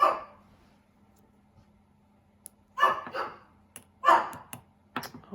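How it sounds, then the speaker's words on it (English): Dogs bark indoors in a few sharp bursts, a pair of barks and then a louder double bark with a short trailing yip, near and clear over a quiet room. "let me see what the dogs are barking at"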